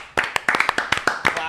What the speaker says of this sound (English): Clap it up. Clap it up.